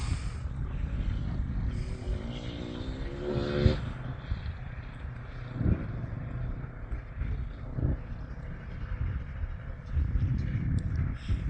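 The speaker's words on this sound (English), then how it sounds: "the dudes are all heading out on their motorcycles" A group of senior riders' motorcycle engines rumble and rev in the distance, fading and swelling as the bikes pull away, with a brief passing whine midway.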